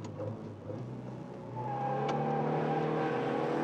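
Alpine Berlinette Group 3 rally car on small 165/13 tyres accelerating on a circuit, its engine note rising in pitch as revs climb and growing louder, with no talk over it.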